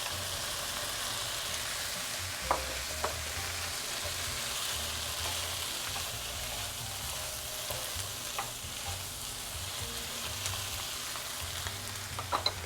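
Diced tomatoes, about a cup and a half, fry in a pan for a creamy poblano strips and chicken dish, giving a steady, dense sizzle throughout with occasional stirring clicks and no talk.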